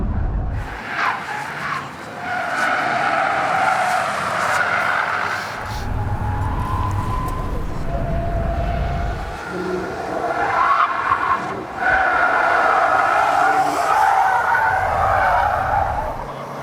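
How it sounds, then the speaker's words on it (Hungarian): A 2024 Toyota Prius's petrol engine runs during a timed lap on a track, giving a continuous droning whine that rises and falls, mixed with rushing road and tyre noise and low rumbles throughout. "Nem, most megy a benzinmotor"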